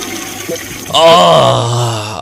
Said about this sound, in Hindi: मैं आपके चक्कर में फ्लश करना भूल गया हूँ सर, एक मिनट।